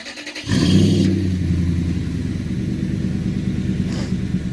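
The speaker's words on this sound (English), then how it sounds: "Now we'll go ahead and have an initial startup." A 2008 Toyota Tundra fitted with a Gibson cat-back exhaust fires up with a sharp cranking burst, then settles into a steady, deep, mellow idle rumble close by.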